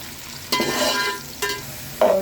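Onions frying in a pan with garam masala and cumin for pulao, giving a steady sizzle broken by three sharp stirring scrapes close up.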